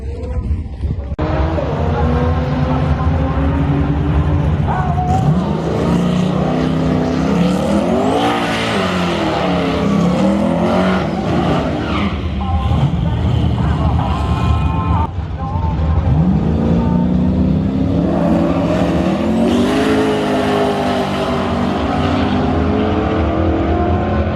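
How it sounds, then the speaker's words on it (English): A cammed Ram truck on new radial tires does a long burnout, the engine roaring and revving hard as the tires spin and squeal in a loud, sustained rush with rising and falling pitch. "I'm going to try and do a longer burnout."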